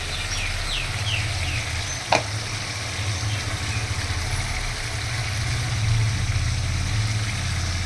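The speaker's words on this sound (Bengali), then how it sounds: "এবার আমি দিয়ে দিচ্ছি এর মধ্যে জল।" Water goes into a hot pan for an aar fish and eggplant curry, raising a steady, close sizzle with a single sharp clink early on and a low background hum throughout.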